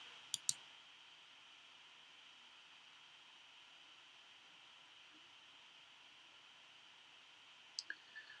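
Two quick computer mouse clicks at the start and another short pair near the end, faint and close, over a steady hiss of background noise with no talking.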